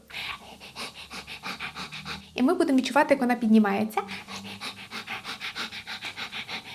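A person pants rapidly in short, rhythmic breaths, imitating a small dog, with a brief spoken phrase breaking the panting midway.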